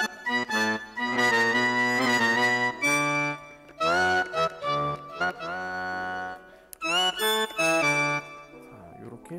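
Four saxophone voices layered on a Roland Aerophone play together in a rich, close ensemble of phrases, with bursts of notes separated by short pauses and no talking.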